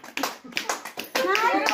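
A group of students on a rural village trip clap their hands, several uneven rounds of close claps, with children's voices and chatter mixed in and getting louder toward the end.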